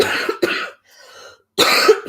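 Three harsh, close coughs, two in quick succession, then a brief pause and a third loud cough.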